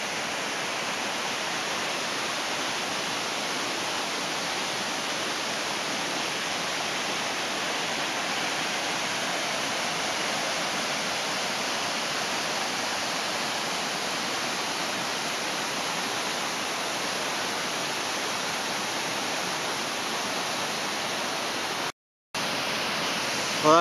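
A river waterfall pours in a steady, broadband rush, loud and continuous throughout with no voices, cutting out briefly near the end.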